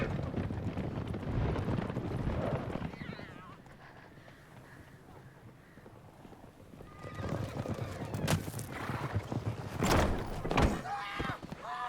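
Horses in The Witcher 3 video game approach with hooves clip-clopping and a whinny, mixed with game dialogue voices and a few sharp knocks over a busy background.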